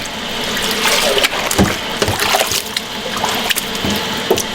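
Cold water running from a kitchen tap into a sink, a continuous splashing stream with uneven bursts and gurgles, close and fairly loud, heard alone without voices.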